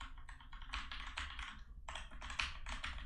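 Rapid bursts of typing on a Redragon K550 mechanical keyboard with tactile brown-style switches, close and crisp clicking in uneven runs with a short pause midway, no talking.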